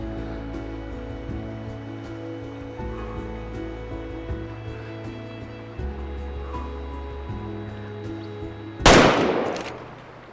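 A single sharp rifle shot fired at a deer in a hunting video game, one loud close crack with a decaying echo, following a stretch of quiet ambient wilderness hum.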